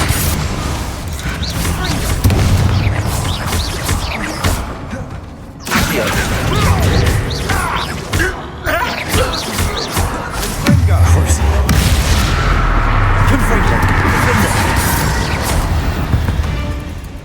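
Confringo and Fendo spell blasts in Hogwarts Legacy combat, loud repeated booms, crashes and thuds in quick succession, with a brief lull before another burst of impacts and debris.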